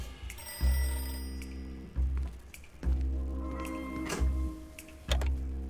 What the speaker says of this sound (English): Let's go answer the phone call.